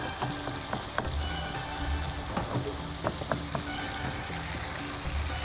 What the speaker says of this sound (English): I am just crushing the tomatoes in the oil, and this will start frying